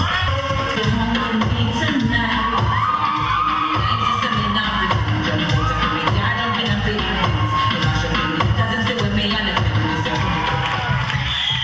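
A lively audience at a Caribbean fitness and dance convention cheers, yells and whoops for the dancers in a dense, continuous crowd roar, with scattered shouts rising above it.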